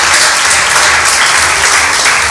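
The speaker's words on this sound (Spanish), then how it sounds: "Un aplauso al Señor." A church congregation claps together in dense, loud, sustained applause with no pauses.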